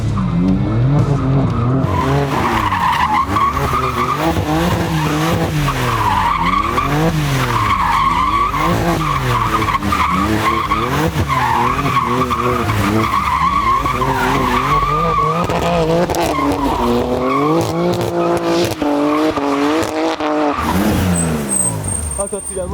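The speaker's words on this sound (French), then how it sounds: "Tu passes, elle prend, tu passes la 3 ou la 4, elle patine." A heavily tuned BMW M5 roars and revs hard while its wheels spin and squeal, engine pitch sweeping up and down repeatedly through gear changes, loud and continuous with people talking over it.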